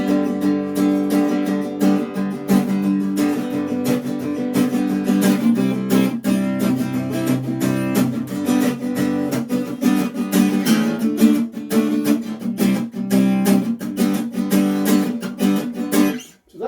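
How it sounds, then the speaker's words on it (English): A steady rock and roll blues pattern played on instruments, driving and continuous for several bars, loud and close, with no voices. "the rock and roll style blues would sound something like this"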